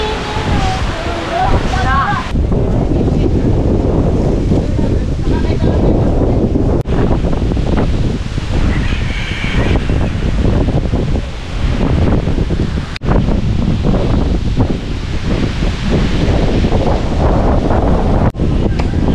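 Strong wind buffets the microphone in a steady, loud roar, with surf rumbling beneath and a voice speaking over it throughout.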